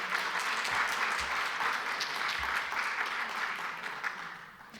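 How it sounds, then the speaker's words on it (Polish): Audience applause following a keynote lecture at a vocational education forum, a steady dense clapping that fills the whole stretch and eases slightly at the end. "Brawa."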